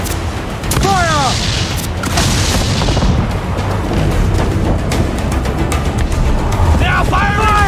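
Ship cannons fire in a naval battle in Assassin's Creed IV, producing loud booming volleys amid a constant roar of sea, wind and combat noise while voices shout orders.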